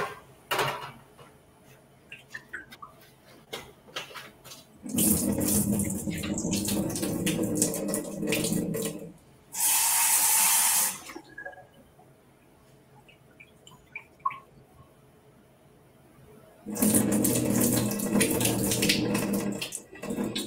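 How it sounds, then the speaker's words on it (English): Tap water runs over long grain jasmine rice in several separate bursts of splashing, rinsing flow broken by quieter pauses. Light handling clatter is heard between the pours. "You should always be washing your rice off."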